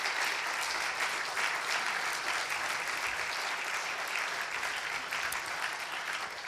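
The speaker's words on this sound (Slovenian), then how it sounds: "Prosim še enkrat aplavz za vse naše prejemnike." Sustained applause fills an award ceremony hall as an audience claps for medal recipients, a steady dense patter of many hands at even loudness throughout, with no voices over it.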